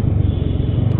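A vehicle goes by on a road in Gwalior, heard from a motorcycle, with a loud, close, continuous engine and road rumble that stays steady from start to finish.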